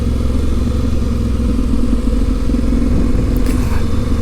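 An Aprilia Tuareg 660 adventure motorcycle descends a steep country lane in the Brecon Beacons in a low gear. Its engine drones steadily and close under the engine braking, with constant wind rush and a brief faint clatter near the end.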